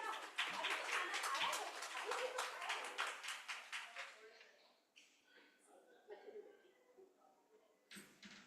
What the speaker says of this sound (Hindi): तालियों के साथ स्वागत करें हमारे प्रिय अध्यक्ष जी का